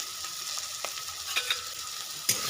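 Chili powder and spices being fried and stirred in a pan for a Bengali pumpkin curry, a steady soft sizzle with several scraping stir strokes, close and without talk.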